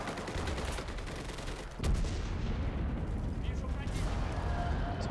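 A grenade goes off in the World War II shooter Enlisted, one sharp heavy blast under continuous gunfire and battle noise, with a faint voice in the background.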